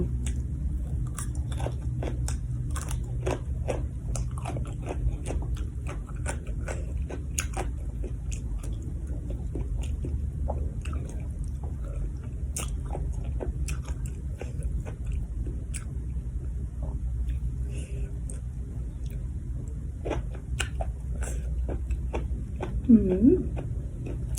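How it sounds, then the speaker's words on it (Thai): Raw crunchy cabbage eaten alongside blanched beef with a spicy dip, with repeated close crisp bites and chewing crunches scattered over a low steady background, while people talk throughout. "กรอบกึดๆแล้วพี่น้องกระหล่ำนะดะ"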